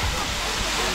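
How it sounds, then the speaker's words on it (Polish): Loud, steady rush of a waterfall on Madeira, a dense broadband roar that fills the whole moment without pause. "Leje się woda jak zła."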